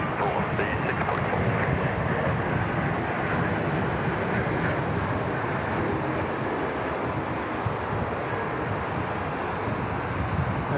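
A Rex passenger aircraft takes off from runway 34 left at Sydney Airport, heard as a steady, loud, broadband engine roar with heavy wind noise, continuous throughout.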